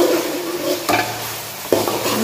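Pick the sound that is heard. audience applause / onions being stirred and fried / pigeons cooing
onions being stirred and fried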